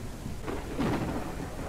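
Thunderstorm in the farming video game Ranch Simulator: steady rain hiss with a low rolling thunder rumble swelling near the middle, continuous and fairly loud without talk.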